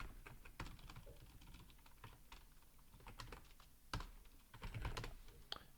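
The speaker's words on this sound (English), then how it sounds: "to create a VLAN, just type VLAN and then the number" Someone types on a computer keyboard while configuring a VLAN in Packet Tracer, producing quick, irregular clusters of close, crisp key clicks with a few heavier strokes. No voices are heard.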